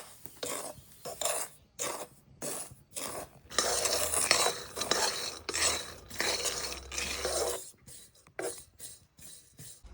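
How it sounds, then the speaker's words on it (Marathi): Semolina (rava) is dry-roasted and stirred in a pan while preparing a festival offering in Konkan. A steady, gritty scraping repeats in short rhythmic strokes, close by and moderately quiet, with no voices. "तर मी आधी आता रवा भाजून घेते."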